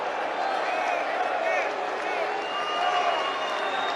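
A large rally crowd in Cedar Rapids, Iowa cheers and applauds in a steady, dense roar, with voices and clapping blending into a continuous wash.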